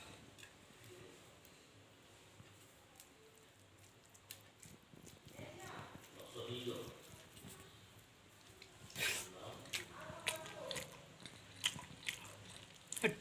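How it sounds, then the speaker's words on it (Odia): Someone eating a home-cooked festival meal of fried food with salad, raw chilli, lemon and coriander chutney, quiet close-up bites and chewing crunches coming irregularly, growing more frequent toward the end. "ବର୍ତ୍ତମାନ ଖାଇବା ଷ୍ଟାର୍ଟ କରିବା।"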